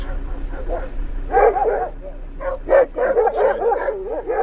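Several dogs bark and yip in short bursts close by, some sounding agitated, over a low steady background hum.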